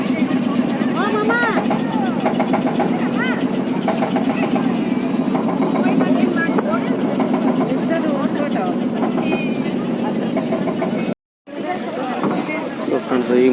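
A motor boat engine drones steadily through a boat ride, loud and close, with a crowd of passengers chattering over it the whole time and a brief cut near the end.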